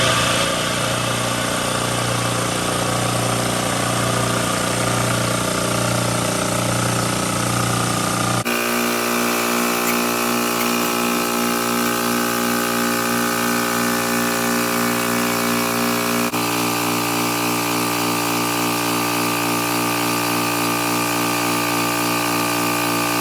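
An air compressor runs steadily, its motor and pump droning loud and close while building pressure after a fault fix, the tone shifting abruptly twice as the load changes, with no talk over it.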